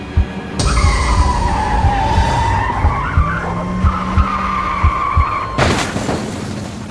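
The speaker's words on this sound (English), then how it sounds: "The truck swerved and crashed onto the side of the road as Andrew ran after her." Truck swerving and crashing off the road, with long loud tire skids across most of the clip and a low engine growl, ending in a sudden broadband crash burst near the end.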